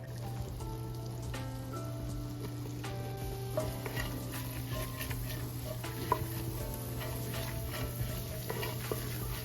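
Flour is stirred into a hot pan while making creamy Southern-style baked mac and cheese: a steady, close scraping and swishing that runs without pause, with a faint sizzle and a constant low hum underneath.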